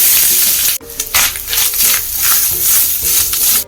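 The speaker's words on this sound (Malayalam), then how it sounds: "ഇത് നല്ലപോലെ നമുക്ക് വറുത്തെടുക്കണം ഗോൾഡൻ ബ്രൗൺ നിറമാവുന്നത് വരെ" Grated coconut, dried red chillies and cumin fry in hot oil in a pan for Kerala varutha erissery. The sizzle is loud and close, broken by a sharp clatter and the repeated scrape of stirring.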